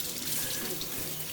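Tap water runs steadily into a sink to rinse items while ice cream is being made, a constant close hiss of splashing water with no talk over it.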